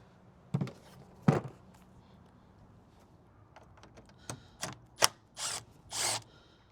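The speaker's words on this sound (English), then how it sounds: "there's another, I think this is T25 bolt that we need to remove down here" Ratcheting and tool clicks while a T25 bolt is worked loose on the N55 engine of a BMW X5 F15 during a water pump and thermostat job, a few sharp bursts spaced over a quiet background, fairly close.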